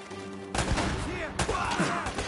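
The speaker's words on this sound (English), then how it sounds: "He's firing wildly" Gunfire in Uncharted: Drake's Fortune: a sudden loud burst of shots, then a second burst about a second later, dense and echoing, with voices mixed in.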